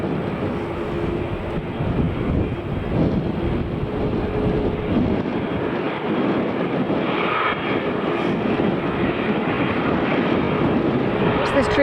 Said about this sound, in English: This Dreamliner will be the last plane of the day.